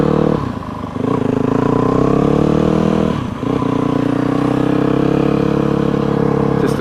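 A Yamaha WR250F dirt bike is ridden off, loud and close, its engine droning steadily and revving through two brief dips as it shifts and pulls away.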